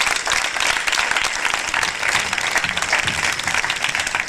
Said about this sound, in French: acclame très fort ton Dieu